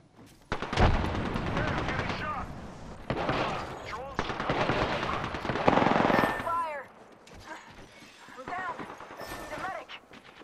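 Gunfire from the battle royale video game Apex Legends crackles in bursts through ranked play, loud and close, under frequent talk from players.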